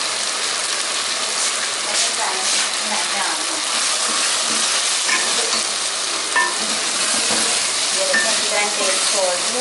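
Spiced minced-meat keema masala fries steadily in oil, a dense, constant sizzle with scraping stir strokes and faint clinks throughout, close and loud.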